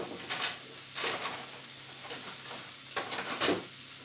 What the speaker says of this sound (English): the next step is fry the onion and the potato.